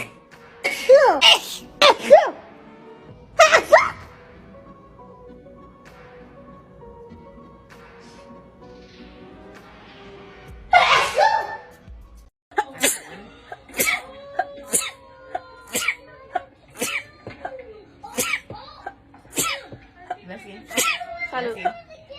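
A person in an allergy attack sneezes loudly and repeatedly, close up, first in a few separate bursts and then in a long rapid run of sneezes, with voices and pauses between them.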